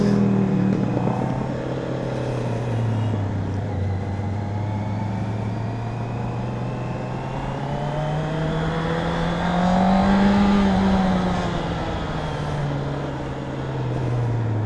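A car engine idles with a steady low rumble, then its revs rise and fall in slow, smooth swells, peaking near the end before settling back, loud and close with no one talking.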